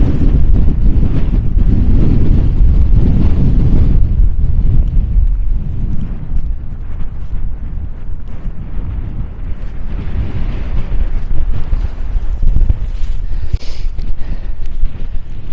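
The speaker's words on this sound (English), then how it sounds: "it is really windy" Strong gusts on a mountain hike in the Tablelands batter the microphone. The low, rumbling buffeting stays loud throughout and eases slightly midway before building again, with no voices.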